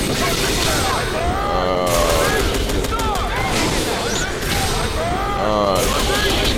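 Missile attacks in a match of the fighting game Ultimate Marvel vs Capcom 3, a loud, continuous barrage of booming blasts layered with sweeping whooshes that swell and recede over several seconds.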